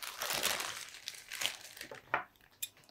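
Thin plastic shopping bag cut with scissors along its seam strip near the bottom, crinkling and crackling in close, uneven bursts with a few sharp snips, no talking.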